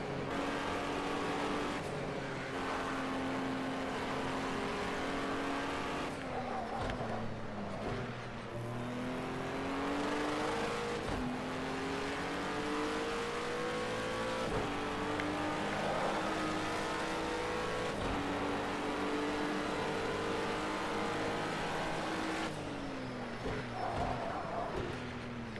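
A car engine revs and shifts through gears in a racing video game, a steady droning whine that rises, drops, and climbs again with each change, held at a constant level throughout.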